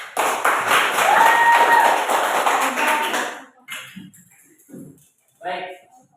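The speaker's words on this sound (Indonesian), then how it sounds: "Baik, kita kasih aplaus." A classroom of students gives a student group a round of applause, a dense burst of clapping lasting about three seconds that fades out into a few scattered taps and thumps.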